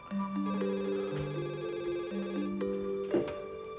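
A telephone rings with a melodic electronic ringtone of stepped tones repeating in a short pattern, clear and fairly close with no talking over it.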